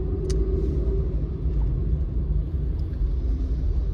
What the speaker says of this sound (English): I don't know why there's so much traffic on a Sunday afternoon at 4 o'clock, but there is.